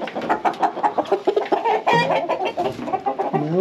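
Chickens clucking in a coop, a steady run of close, overlapping clucks and short squawks, loud and continuous with no talk.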